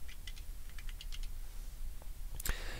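Fingers type on a computer keyboard in a quiet room, a short run of light, scattered keystrokes followed by a sharper click near the end, fairly close and soft.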